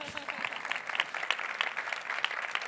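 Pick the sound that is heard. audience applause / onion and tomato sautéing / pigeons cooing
audience applause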